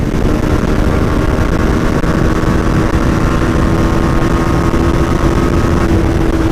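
KTM RC 390 motorcycle engine roars continuously and loudly as the rider accelerates hard through the gears on a street ride, a steady dense drone with no pauses.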